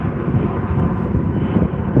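A Jetstar airliner departing gives a brief, steady, dull engine rumble at moderate loudness, with no voices.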